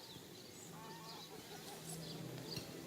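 Rooster in the video game Divinity: Original Sin, giving short honking, goose-like calls over a steady game background hum at moderate loudness, with no one talking.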